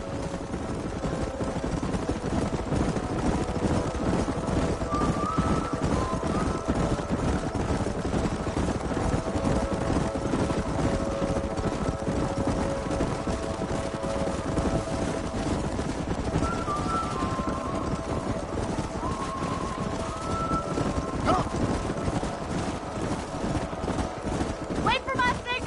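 Many horses galloping in the Western video game Red Dead Redemption, a dense, steady drumming of hooves that runs unbroken throughout, with faint voices and game sounds mixed in.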